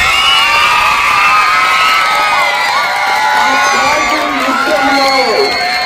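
Large crowd at a school gathering cheering, whooping and shouting loudly and continuously in honour of Kargil war soldiers, a dense wall of voices with children's shouts.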